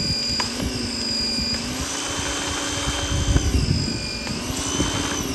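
A pressure washer sprays steadily after its nozzle is adjusted, a continuous whining motor tone under a broad hiss of water jetting onto a bird bath, close and fairly loud.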